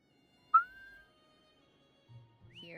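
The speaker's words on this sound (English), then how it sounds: "Try whistling." A single clear whistle in a video game rises then holds a steady tone, followed by quiet and a few faint higher chirping notes near the end.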